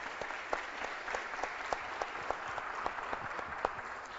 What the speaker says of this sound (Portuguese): Olha, merece palmas.